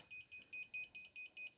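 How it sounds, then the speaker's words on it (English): Drone flight controller, being set up in an AtomRC Dolphin RC airplane build, gives out a steady run of eight short, evenly spaced high electronic beeps, fairly faint and alone. "FC is beeping"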